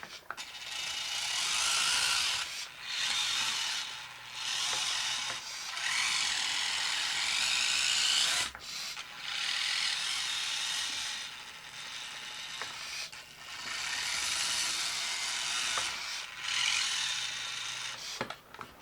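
A radio-controlled John Deere 7930 toy tractor pulls a dragging rubber-wheeled mower. Its small plastic gears give a harsh, ratcheting whir in repeated bursts with short pauses between them.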